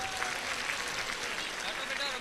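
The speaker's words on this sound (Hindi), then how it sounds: "ताली बजाओ फिर इनके लिए" Audience applause at a live religious discourse, a steady broad wash of clapping filling the whole moment at moderate loudness, with crowd noise mixed in.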